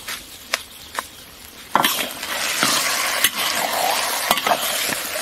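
Braised soft-shell turtle being stir-fried with dark soy sauce in a large iron pot: steady frying sizzle with repeated sharp clacks of a spatula against the metal, fairly close.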